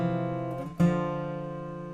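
Acoustic guitar with the 5th, 4th and 3rd strings plucked together for a song: one chord ringing, a brief muted break, then a second strong pluck that sustains and slowly fades, played alone.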